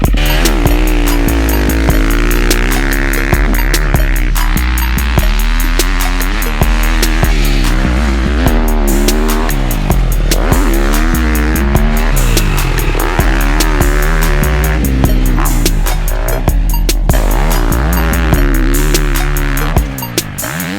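Husqvarna FC250 or FC450 dirt bike being ridden, its engine revving loud and close throughout with repeated throttle blips and gear changes, no talk over it.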